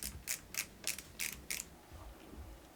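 A ratchet screwdriver clicks in six crisp, evenly spaced bursts, close and fairly quiet, followed by a faint rubbing pause.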